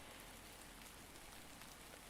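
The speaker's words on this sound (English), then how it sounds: "Let's wait here until it stops raining." Rain falling in a video game scene, a steady dense hiss of drops on surfaces, quiet and unbroken with no voices.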